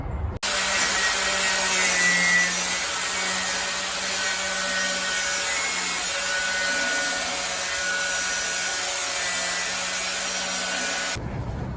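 A bolt on a Sears lawn tractor is cut with a power tool, giving a steady harsh whining grind that holds loud and unbroken for about eleven seconds before cutting off abruptly, close by with no talk.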